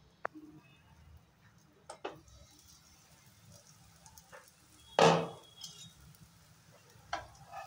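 Dal pakoras being turned in a frying pan, a few sharp scrapes and clinks of a utensil against the pan over a low, steady oil sizzle, with one louder scraping turn in the middle.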